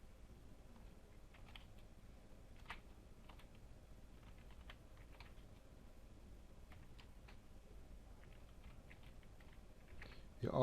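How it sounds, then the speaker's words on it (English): Quiet, sparse tapping of keys on a computer keyboard, typed in short irregular bursts at close range, faint under a low room hum. "You can delete whatever's in there, and now you type a proper title."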